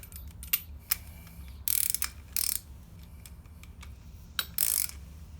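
Close, dry ratcheting clicks and a few short, harsh mechanical bursts from a chain tool pressing a rivet into a motorcycle chain link, with irregular pauses between strokes and no talking.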